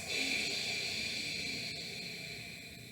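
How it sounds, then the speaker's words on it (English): Yoga ujjayi breathing, a sustained throaty whispered exhale like Darth Vader's breath, steady and close, fading slightly toward the end with no talking. "I'm pulling my abdomen inside and making kind of this Darth Vader sound in the back of my throat."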